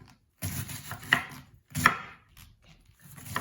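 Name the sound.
chopping cabbage with a knife for sauerkraut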